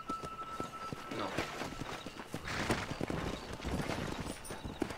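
Horse hooves galloping in the Red Dead Redemption video game, a rapid, busy clip-clop of hoofbeats running steadily and fairly loud across the whole stretch, with no talk over it.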